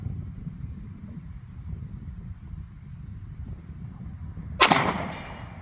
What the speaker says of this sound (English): one of those 40 Smith & Wesson rounds, downrange at the 75-yard target, left-handed